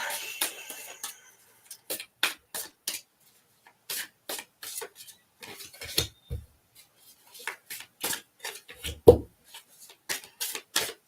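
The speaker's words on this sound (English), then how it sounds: "Now that we've got your cards shuffling," Playing cards shuffled by hand make a run of short papery riffles and rubs, each a quick burst with small gaps between, close and fairly quiet against a silent background.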